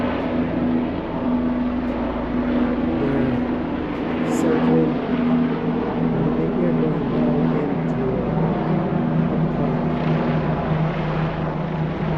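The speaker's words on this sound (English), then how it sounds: "this looks like a military helicopter" A steady low rotor-like drone of a military helicopter overhead, constant and fairly loud throughout, with voices murmuring faintly beneath it.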